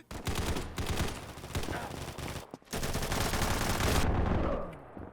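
Hip-fire gunfire in a shooter video game, heard as rapid, continuous automatic bursts fired close and loud, broken by a brief pause midway and then resuming before trailing off, with a faint voice now and then.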